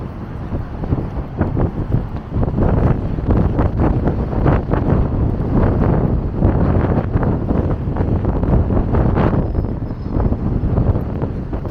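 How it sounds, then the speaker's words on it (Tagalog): Strong wind buffets the microphone on Lauder Avenue in Eglinton West, Toronto, Canada, a steady, roaring rumble with gusty fluctuations throughout, loud and close, with no voices. "Hangin."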